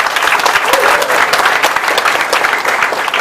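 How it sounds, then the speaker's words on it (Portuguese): A crowd at a business event in a Salvador shopping plaza breaks into brief, loud, continuous applause, a thick mass of overlapping claps with a faint murmur of voices underneath. "Salva de palmas para eles"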